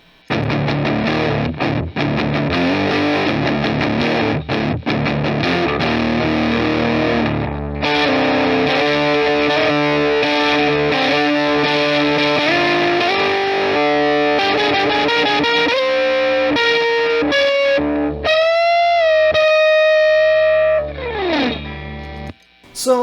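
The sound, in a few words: guitar through distortion pedal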